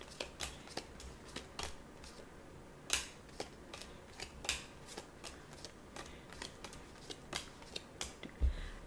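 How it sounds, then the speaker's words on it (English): Tarot cards shuffled by hand, close and quiet, a series of sharp riffling snaps and soft slaps coming at an irregular rhythm with no talking. "They want me to shuffle."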